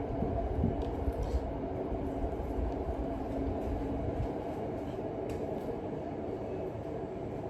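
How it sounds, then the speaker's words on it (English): A train rumbles past at a moderate distance, a steady low roar with faint rhythmic clattering that holds throughout without fading. "There's the train again. Yeah, there's the train."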